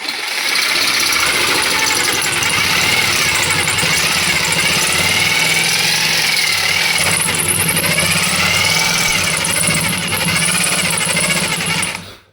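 A GTM JS18/65 cordless jigsaw cuts through wood at low speed, its motor whining steadily and loud for about twelve seconds with a busy rasping blade chatter, straining slightly as if meeting glue or grain, then cutting off at the end.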